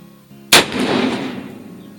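A single loud, sharp gunshot from an 1858 Pietta black powder revolver, with a booming crack followed by a long rolling echo that slowly fades over a second and a half.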